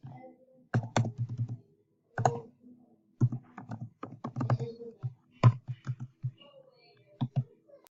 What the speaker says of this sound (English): I'm just gonna put my email in.